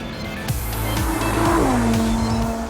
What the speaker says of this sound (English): with a few revs on the clock, that sounds more like a V10 should